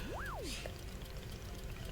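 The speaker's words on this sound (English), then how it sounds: "It is traditional rail train and waterfall dishwashing system as in olden times." Water pours steadily in the waterfall dishwashing system of the video game Wanderstop, a faint continuous trickle that opens with a short rising and falling whistle-like tone.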